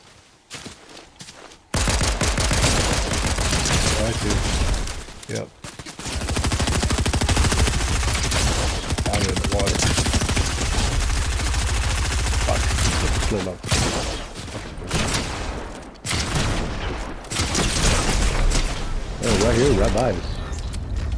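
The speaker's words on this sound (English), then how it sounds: "Yeah, somebody shooting, but I don't know who." Gunfire in the video game Fortnite rattles in long, dense bursts of rapid shots, close and loud, with short pauses between volleys and players talking over it.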